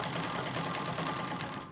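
Singer 66 treadle sewing machine running steadily during free motion quilting, a continuous close mechanical whir with a fast stitching rhythm that holds for the whole stretch, no voices over it.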